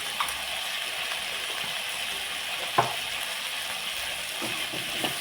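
Mutton curry ingredients with turmeric sauté in a pan, giving a steady close frying sizzle with a few scraping stir clicks scattered throughout.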